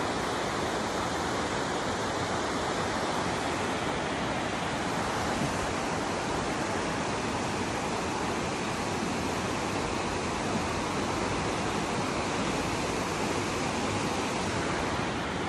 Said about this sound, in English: there's some power in that river